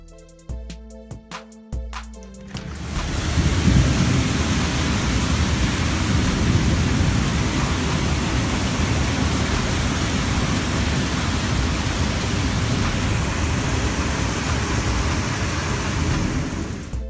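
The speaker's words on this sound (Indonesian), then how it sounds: "Hujan badai di Rusia." A thunderstorm in Russia: heavy rain pours down in a dense, roaring wash that swells in after a few seconds of rumbling and lasts throughout, steady and loud.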